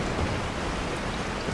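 Steady nighttime rain hisses evenly in Resident Evil 4, a dense, continuous wash of falling drops with no voices.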